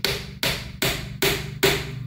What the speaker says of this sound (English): you just put it in your screw hole that you had, and then you just tap it with a hammer